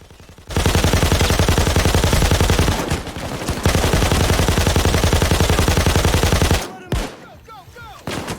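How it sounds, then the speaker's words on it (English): An M60 light machine gun fires in Payday 2 in long, loud sustained automatic bursts with a rapid, even rhythm, briefly pausing before resuming and tapering off near the end. "This is the best light machine gun Overkill has ever added in this game."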